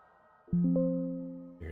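Windows 11 error notification chime: a short, clean, crisp set of rising tones sounding alone against silence, then a second tone starting at the end.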